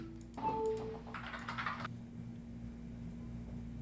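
Keystrokes on a Keychron Q6 Max mechanical keyboard at a desk, a short burst of clacky typing lasting about a second and a half over a steady background hum, then quiet room tone.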